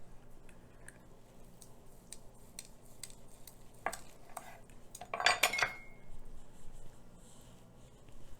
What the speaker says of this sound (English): I'm going to slice up my roast